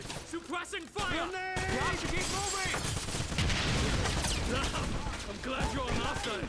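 Heavy suppressing gunfire in Wolfenstein (2009), dense bursts of shots continuing for several seconds amid battle clamor, with shouted voices heard early and again near the end.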